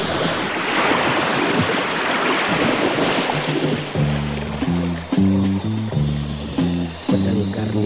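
Clear river water churns and splashes as fighters clash with swords, a rushing, surf-like wash that fades under bold, rhythmic music chords in the second half, with no speech.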